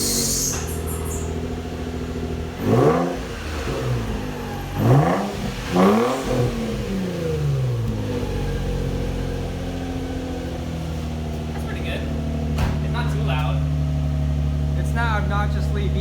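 A Nissan 350Z engine with a plenum spacer and loud exhaust starts and revs in several sharp bursts, then settles into a loud, rumbling idle, with voices talking nearby.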